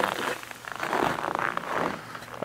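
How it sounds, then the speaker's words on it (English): Crisp, squeaky crunching of cold snow under footsteps, a steady series of close crunches with no talking. "The snow has a peculiar sort of crunch to it."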